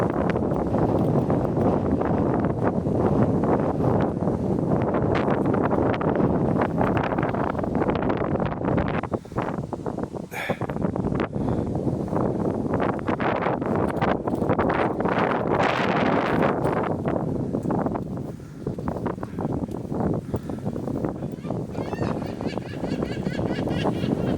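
Steady wind roars and buffets the microphone outdoors beside a railway line on Millhall Road in Stirling, Scotland, a continuous broadband rush that dips briefly midway, then surges again with faint rustling.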